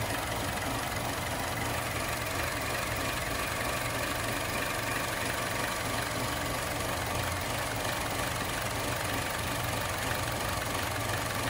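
Chevrolet Cruze engine with a newly installed Stigan turbo, idling at first startup, a steady low engine rumble and hum held close and unchanging throughout, with no voices.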